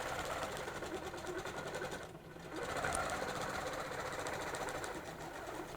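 Sewing machine running steadily while stitching quilt lines along a cable ruler, a continuous close mechanical whir with a brief dip near the middle before it carries on; low in level, with no speech.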